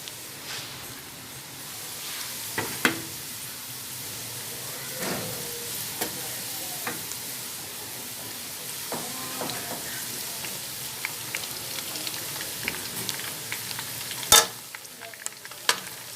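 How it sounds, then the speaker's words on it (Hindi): Chicken frying with lightly browned onions in hot oil for aloo chicken, a soft, steady sizzle with scattered crackles and spoon taps, one louder clack near the end. "अब हम इसके अंदर चिकन डालेंगे।"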